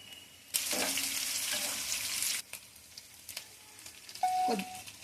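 Chopped green chillies hit hot oil for idli upma, a loud sudden sizzle that runs for about two seconds and then fades, followed by a brief stirring clatter and a second short burst of frying.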